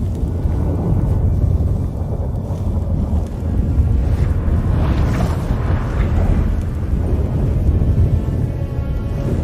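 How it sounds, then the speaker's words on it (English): A storm rages in The Witcher 3 as the gate between worlds opens: a loud, continuous roar of wind and rolling thunder fills the whole stretch, with no voices over it. "That a storm?"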